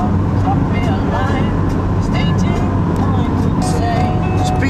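A Volkswagen Polo drives past at speed, a loud, steady roadway roar that stays close for several seconds, with voices talking over it.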